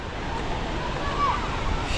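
Athirappilly Falls in India gives a broad, steady roar of falling water mixed with wind buffeting the microphone, while a faint voice and a brief whistle-like tone sit under the noise.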